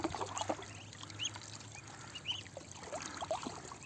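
Ducklings paddling on water in a backyard setting, giving soft, scattered high peeps and quacks over a steady low hum and trickling water, with no talking.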